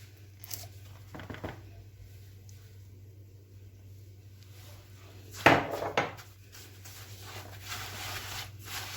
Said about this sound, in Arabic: نفضل نقلب كويس كده.